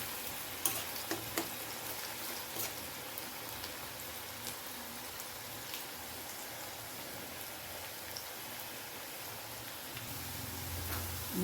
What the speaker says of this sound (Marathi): पूर्ण कडक करून मी फ्राय करणार त्याला